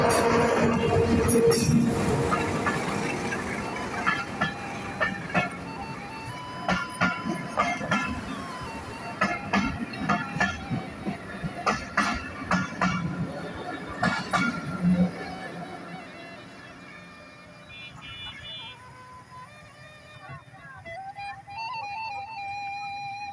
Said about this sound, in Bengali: ওই যে রেলটা ছেড়ে দিছে